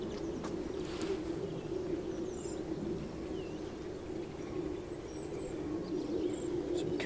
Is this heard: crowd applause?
no